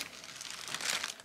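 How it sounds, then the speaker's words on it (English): Crinkly wrapping paper on a small gift being peeled and crumpled in one brief close burst that swells toward the end. "Just started unwrapping this little gift,"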